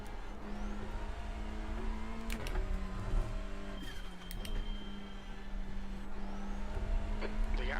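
BMW race cars in an NEC endurance race heard from inside a following car, with a steady engine drone and shifting tones as gears change, punctuated by a few sharp clicks and brief transients.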